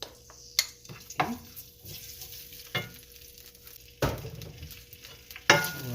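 Garlic frying in a pan for kimchi stew, a soft sizzle running underneath with scattered knocks and scrapes of a utensil stirring against the pan, two louder clattering stirs standing out.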